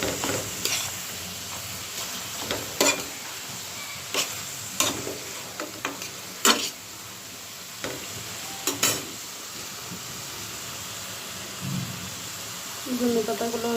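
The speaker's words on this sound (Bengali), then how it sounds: "মাছ লাউ দুটাই কষিয়ে নিব।" Fish and bottle gourd fry together in a pan, a soft continuous sizzle broken by sharp scraping stirs at irregular intervals, close and fairly quiet.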